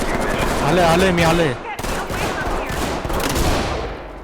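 Video game gunfire rattles in quick bursts, loud and close, while a voice with a rising, wavering tone is heard over the first half.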